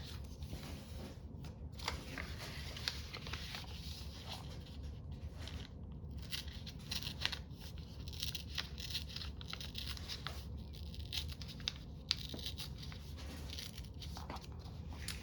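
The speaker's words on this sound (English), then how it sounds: "That tearing you hear in the background is little miss chewing up her own papers." A pet tears and chews up paper nearby, a continuous faint crinkling and ripping with small crunchy bites scattered throughout, without talk.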